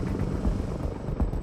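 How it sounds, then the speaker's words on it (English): A Coast Guard rescue helicopter on a sea search throbs with steady, dense rotor chop and engine roar, loud and close throughout with no voices. "the decision is made to scramble the Coast Guard helicopter to help them complete the search"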